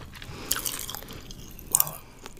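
Sour chewing gum is chewed and bitten close to the mic in a whispery setting, with soft wet squishes and a couple of sharper crunching clicks.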